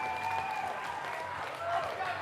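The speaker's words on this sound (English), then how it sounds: "Fat round of applause for both of these two." Steady applause from a crowd at youth national speed finals, dense clapping that holds at an even level throughout, with some voices mixed in.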